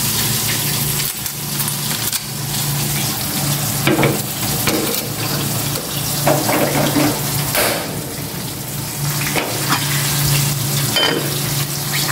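Pieces of chicken fry in hot oil with a steady, crackling sizzle. Occasional clatters and watery splashes sound nearby, and no one speaks.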